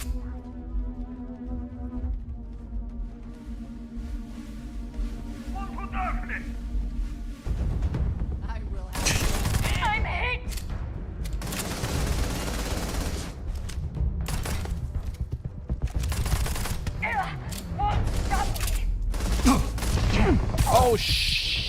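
Rapid bursts of gunfire and heavy impacts fill a firefight in the Starfield video game, loud and dense in the second half after a quieter, humming opening, with someone talking over the shooting.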